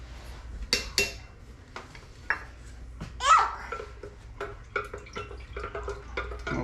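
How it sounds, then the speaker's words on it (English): A spoon stirs homemade old-fashioned lemonade, clinking against the container in scattered taps, while a child and an adult chatter and laugh nearby. "We'll give it a good stir."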